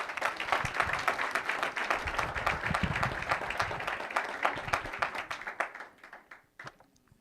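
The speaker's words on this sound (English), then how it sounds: "You can clap, that's all right." Audience at a political campaign speech for a California governor candidate applauds with dense, fairly distant clapping that holds steady for several seconds, then thins and fades out.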